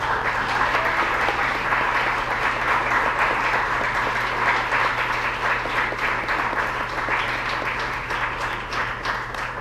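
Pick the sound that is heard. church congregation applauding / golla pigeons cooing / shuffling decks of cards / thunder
church congregation applauding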